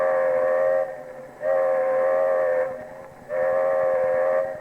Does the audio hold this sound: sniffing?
no